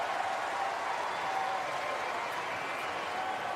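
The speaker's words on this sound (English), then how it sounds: "Give a little round of applause here to both players" A tennis crowd at the Australian Open applauds both players in a steady, even wash of clapping that holds at one level throughout, with no clear voices on top.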